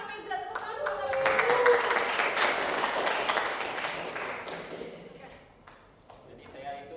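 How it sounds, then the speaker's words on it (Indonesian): An audience in a classroom setting gives a student group a burst of applause lasting several seconds, swelling and then fading out, with a few stray claps and taps at the end. "tepuk tangan buat kalian"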